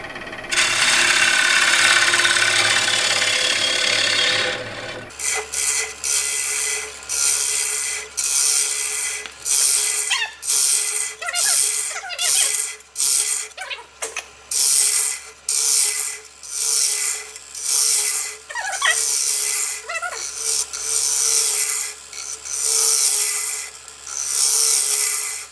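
Wood-turning lathe gouge shaving a dyed rim platter, producing repeated rasping cuts in short bursts over a steady motor hum after an initial loud scraping stretch.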